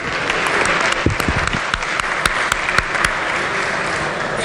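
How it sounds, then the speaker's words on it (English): Members of the West Virginia Legislature applaud visiting social work students in the chamber: a sustained round of many hands clapping, fairly loud and even, with a few sharper claps standing out. "If they would please stand up and everybody give them a round of applause"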